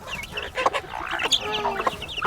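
Chicken clucking and calling in a farmyard, from a flock of frizzled, feather-footed crossbred birds, a few clucks and squawks over a low background murmur.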